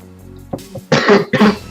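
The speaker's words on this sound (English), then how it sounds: "When I talk a lot, I start coughing." Two or three rough coughs, close and fairly loud, following a brief throat noise in a quiet room.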